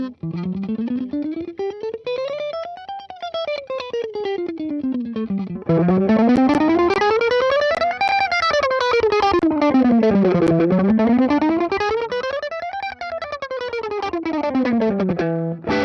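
Distorted electric guitar plays fast, continuous picked runs sweeping up and down the scale in repeating waves, loud and dense without pause.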